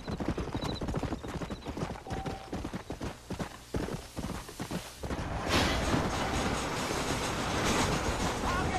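Horse hooves clip-clop steadily in a Western video game ride, the rhythmic thuds close and loud, then blending into a denser rumble of movement and wind from about the midpoint onward.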